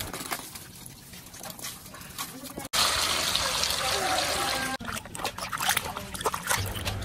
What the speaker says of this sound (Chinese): 给它多冲洗两遍